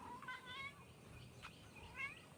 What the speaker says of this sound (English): And that meow is very familiar.